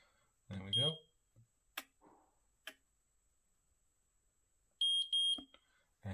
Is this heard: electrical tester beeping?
yes